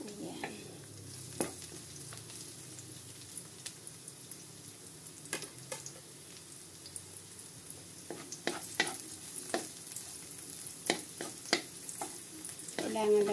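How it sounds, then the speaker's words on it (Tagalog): Garlic sizzles in a preheated pan (kawali), with a steady frying hiss under scattered sharp ticks and stirring scrapes, fairly close and with no voices. "Napainit ko na po pala yung kawali. Kaya ilalagay na lang po natin ang bawang."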